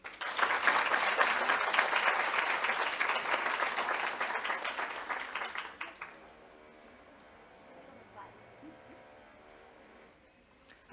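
An audience at a women-in-science symposium claps for the speakers, a dense burst of applause lasting about six seconds, then fading to scattered claps and quiet room noise.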